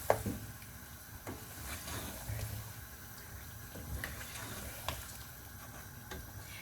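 Potatoes are stirred into chicken biryani masala in a pot, making soft, faint scraping and gentle sizzling with a few light knocks of the spoon, steady throughout and without speech.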